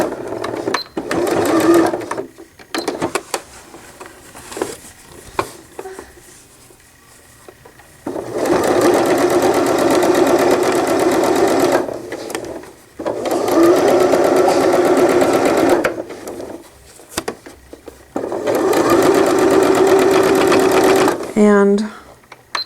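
A sewing machine runs in three long bursts of fast steady stitching, forward and back stitches closing up a newborn gown, loud and close, with quiet pauses between runs.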